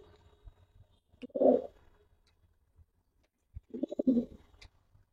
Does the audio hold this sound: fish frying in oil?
no